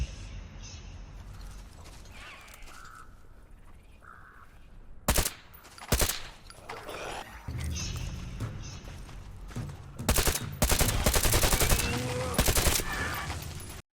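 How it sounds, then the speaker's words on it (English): Weapon fire in The Division 2 gameplay: bursts of rapid automatic gunshots with a few sharp single cracks, loud and close over a busy game soundscape, with some voice audible in the background. "Is that Tim the Tatman shooting"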